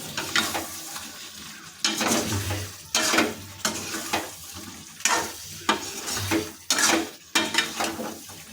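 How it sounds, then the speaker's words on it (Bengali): Young jackfruit sizzles gently in a pan over low flame while a utensil stirs it in regular bursts, close scraping strokes rising over a soft, steady frying hiss. "এঁচড়গুলো যোগ করে দিচ্ছি এটাকে এখন আমরা মিনিট পাঁচেক লো ফ্লেমে কষিয়ে নেবো"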